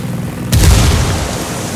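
A frag grenade in Ghost Recon Wildlands detonates once with a deep, loud boom, then a rumbling tail fades away over a steady background.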